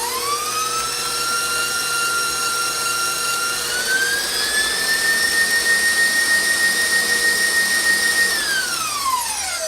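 An electric mixer whirs steadily as sour cream is beaten into cheesecake batter, a loud, close, continuous motor whine that rises slightly in pitch midway, holds, then winds down near the end.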